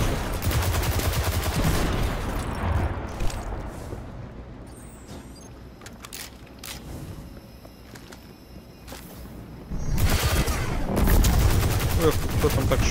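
Gunfire in the video game Destiny 2 during a Vanguard strike, with dense bursts of rapid shots and blasts that are loud at the start, ease into scattered single shots, then surge again near the end.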